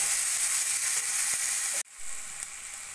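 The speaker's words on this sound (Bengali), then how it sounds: "ভালো করে ভাজা ভাজা করে নেব।" Small cut pieces of potato and carrot fry with chili and ginger in a pan for oats khichdi, a soft, steady sizzle that drops out briefly near the end and then resumes more quietly.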